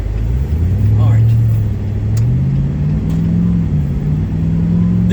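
A huge, lane-wide high-end vehicle cruising down the road, its engine giving a loud, steady low rumble with slight rises in pitch, heard from inside the cabin while someone talks over it.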